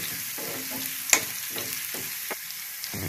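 Garlic frying in plenty of oil for tomato thokku, a low steady sizzle close by, punctuated by a few spatula scrapes and one sharp clink against the pan, no voices.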